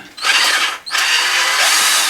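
A power drill whines loudly at close range, cuts out briefly, then spins up again and keeps running steadily.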